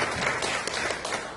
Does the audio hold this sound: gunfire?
no